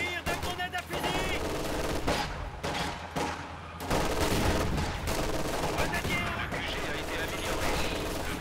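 Gunfire and a rifle grenade sound in a Company of Heroes 2 battle during a forest crossing. Sharp shots and bursts crack repeatedly throughout, with a heavier thump partway through and players' voices in the background.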